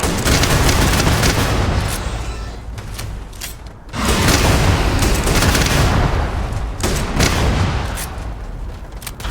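Shotgun blasts in Starfield ring out loud and close, several heavy booming shots with rumbling echoes over dense game noise, with a brief lull in the middle.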